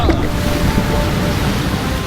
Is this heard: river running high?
yes